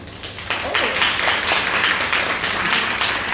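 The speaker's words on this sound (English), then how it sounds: "So if so, give a clap" A meeting audience claps together, a dense, steady patter of many hands starting after a brief pause and holding at an even level for about three seconds.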